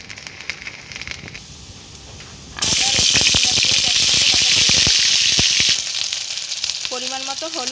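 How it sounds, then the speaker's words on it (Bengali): Whole cumin seeds hit hot mustard oil in a heated wok, bursting into a loud, continuous sizzle after a quieter opening, then settling into lighter crackling with some scraping toward the end. "প্রথমে দিয়ে দেব গোটা জিরা"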